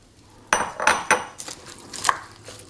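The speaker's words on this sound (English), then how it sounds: "Just to stir that in." A utensil stirs cauliflower coated in an oil, garlic and parsley mix inside a bowl, giving a few loud close clinks followed by softer scrapes and taps over a couple of seconds.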